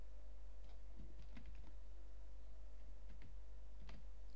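Text typed on a computer keyboard, scattered soft keystrokes in small clusters, faint under a steady low hum.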